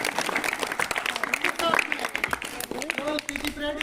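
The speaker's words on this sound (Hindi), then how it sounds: "जोरदार तालियां उनके लिए।" Loud applause from an audience at a children's Independence Day school event honouring pupils in a PT parade, dense clapping mixed with voices and shouts throughout.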